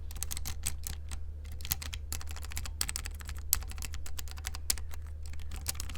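Steady, fast typing on a mechanical keyboard with brown switches: dense, even clicks of the keys heard close and alone, over a low background hum.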